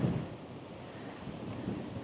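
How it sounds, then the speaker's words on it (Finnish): Low, rumbling gusts of strong wind buffeting the microphone, steady and blustery throughout, with no voices, in Perth, Western Australia. "Kova tuuli."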